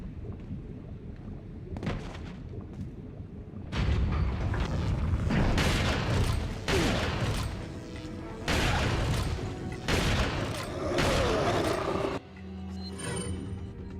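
Loud gunshots and explosive blasts from the video game Resident Evil 4 crash in dense bursts, starting with a few sharp reports and swelling into sustained heavy firing with booming impacts, then dropping off sharply near the end.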